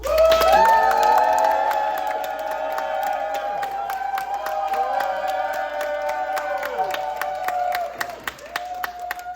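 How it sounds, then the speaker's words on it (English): Audience at a live fringe-festival mock-jury show in Harrisburg claps and cheers, with loud whoops and sustained tonal shouts over steady applause that fades and breaks into scattered claps near the end. "If you think that Mr. Walker deserves a truckload of cash, show me by a round of applause"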